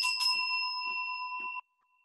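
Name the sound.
small bell rung to clear the space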